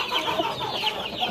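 Several brooding hens cluck softly and continuously nearby, their short overlapping calls forming a brief busy chatter.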